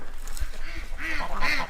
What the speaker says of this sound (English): We walk past a pond full of ducks